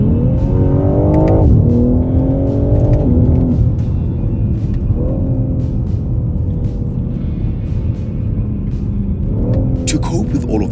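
A BMW G80 M3 Competition xDrive accelerates hard, its engine rising steeply through a few gear changes with a brief dip between pulls, loud and near while a voice talks over it.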